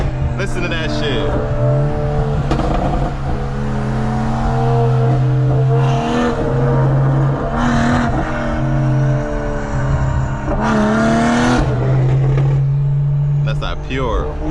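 A tuned FBO straight-piped Toyota Supra with a Magnaflow catless downpipe and Eventuri intake rumbles loudly up close, its engine note rising and falling through repeated revs and steady drone.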